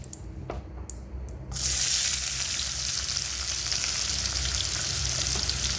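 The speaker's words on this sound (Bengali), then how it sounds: "তেলটা গরম হয়ে গেছে, দেবো পেঁয়াজ" Onions dropped into hot oil for an eggplant bharta burst into a loud, steady sizzle after a quieter start, the frying hiss continuing without letup and no one talking.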